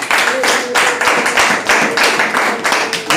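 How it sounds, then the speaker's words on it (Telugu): A church congregation at a Sunday service claps in loud, rhythmic bursts of hand claps, filling the hall up close. "ఎంత బాగా కొడతారా మీరు చప్పట్లు?"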